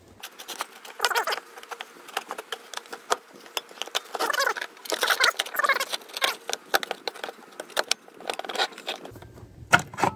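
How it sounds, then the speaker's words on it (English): Pull-start rope on an outboard motor winding back onto its recoil spring pulley, heard as close, irregular patters, scrapes and rattles that come in quick bursts and gaps. "now it should recoil itself right back to where you want it, just like that"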